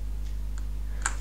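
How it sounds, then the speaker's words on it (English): Computer keyboard keys are pressed, Control and arrow keys, while navigating in Inkscape: a couple of faint, sharp clicks, the clearest near the end, over a steady low hum. "press Control and arrow key"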